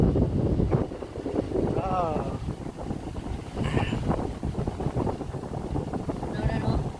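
Steady mountain wind rumble buffeting the microphone outdoors, with people talking over it throughout.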